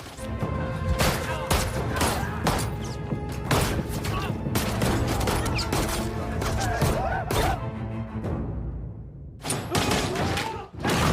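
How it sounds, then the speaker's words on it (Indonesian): Rapid bursts of pistol gunfire as a gangster shoots down rival gang members in the Korean crime film Night in Paradise, sharp repeated cracks and thuds filling the scene almost continuously, with a brief lull near the end before more shots. "ia lalu mengeluarkan pistol kemudian menembaki semua anggota geng"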